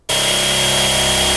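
A power drill spins up and runs at a steady, loud whine while boring 5/16 inch holes in a Daystar hood cowl scoop, the motor tone holding constant and close throughout.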